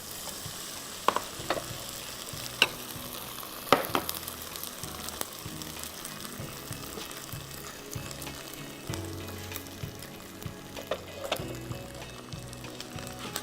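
Edible gum (gond) fries in a pan with a soft, low sizzle, broken by occasional stirring clinks and scrapes close up, no voices.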